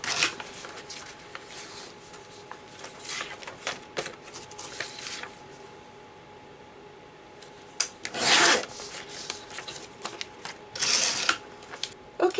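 A sheet of paper for a chunky junk journal is trimmed into a 4-inch strip with a paper trimmer, giving a few short scraping, rasping slides at close range with quiet pauses and no talk.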